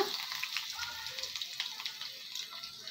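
Crushed garlic sizzling in hot oil for a tempering over dal rasam, a quiet, crackly spitting fry with small pops, close and continuous for a few seconds.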